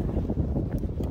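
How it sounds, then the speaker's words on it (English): Wind buffets the microphone on a trail in Wyoming, a dense low roar that rumbles continuously through the whole moment with no clear voice over it. "It's a little windy"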